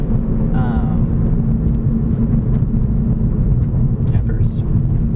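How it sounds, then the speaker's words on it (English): A 2009 Volkswagen Rabbit being driven, its engine and road noise forming a steady, loud low rumble that fills the cabin throughout, with a brief voice-like chirp early on and faint clicks near the end. "She's a 2009 Volkswagen Rabbit."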